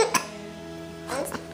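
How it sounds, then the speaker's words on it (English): A child hiccups twice, short sharp throaty catches near the start and again about a second later, close and fairly soft, with a breathy giggle around the second one. "Oh, you got the hiccups."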